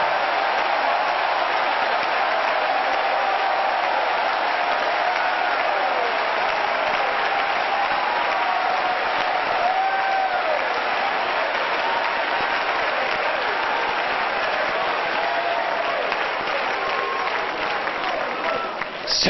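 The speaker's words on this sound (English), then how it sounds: "Would you clap again and shout with your voice of triumph unto the Lord?" A church congregation claps and shouts in praise at a 1993 service, producing a continuous, loud wash of crowd noise that holds steady throughout without letting up.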